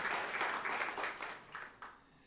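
Church congregation applauding Jesus during a service, a short burst of many hands clapping that swells briefly and then thins out and fades within about two seconds.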